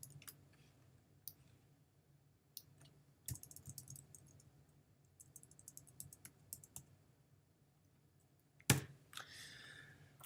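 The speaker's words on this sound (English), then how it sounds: "I'm arrowing now using the arrow keys." Sparse, faint clicks of arrow keys being pressed on a computer keyboard, spaced irregularly over a quiet room tone, with one louder clack near the end.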